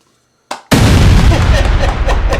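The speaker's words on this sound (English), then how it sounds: "Explosion." A loud pyrotechnic explosion effect bursts during a marching band field show at a battle of the bands, a short pop followed by a sustained roaring blast that fills the rest of the moment.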